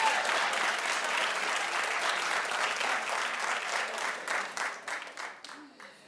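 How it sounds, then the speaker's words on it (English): Studio audience applause on a daytime talk show, a dense sustained clapping that holds steady, then thins out and fades over the last two seconds. "clap if you like that"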